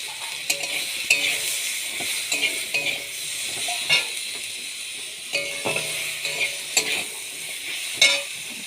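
Tomatoes are stirred and fried in a pan, a continuous bright sizzle with intermittent scraping and clinking of a spoon, close and steady, with no one speaking.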